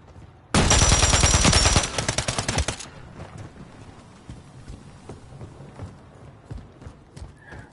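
Gunfire in Call of Duty: a loud, dense burst of rapid automatic shots lasting over a second, then a few trailing shots fading into quieter game ambience.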